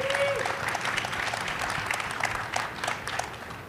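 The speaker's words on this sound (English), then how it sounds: "please, a round of applause for our panelists here" An audience applauds the panelists at a licensing and location-based entertainment panel, a steady, dense wash of clapping from a crowd that holds throughout.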